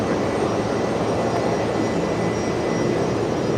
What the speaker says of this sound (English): Brisbane ground, traffic 737, taxiing out by Charlie 2.